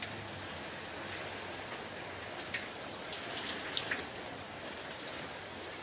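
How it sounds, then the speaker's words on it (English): Heavy rain pours steadily at an outdoor sailing regatta for 18ft skiffs in New South Wales, a dense even hiss broken by occasional sharper drops and patters. "it is still raining extremely heavily here"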